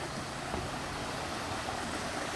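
A mountain valley stream below a temple on Bukhansan in Korea, running full after days of heavy rain, gives a steady, close rushing wash of water with no voices.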